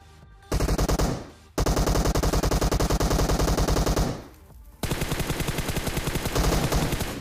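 Long bursts of rapid automatic gunfire in PUBG, loud and close, broken by two brief pauses before the firing resumes.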